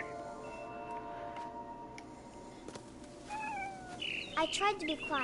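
A cat meows in the video game What Remains of Edith Finch, with a few rising, plaintive meows clustered near the end over a quiet, steady background ambience.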